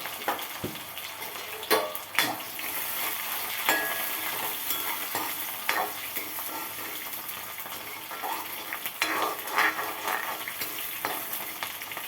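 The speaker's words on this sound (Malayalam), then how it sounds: "മഞ്ഞൾപ്പൊടി, ഉപ്പ്, ചിക്കൻ മസാല, ഈ 3 കൂട്ടം മാത്രം ചേർത്തുകൊണ്ട് നന്നായിട്ട് എണ്ണയ്ക്കകത്ത് വഴറ്റി" Chopped ingredients with green chillies sauté in oil with turmeric, salt and chicken masala, giving a continuous soft sizzle broken by intermittent scraping and clinking of a spoon against the pan, with no talking.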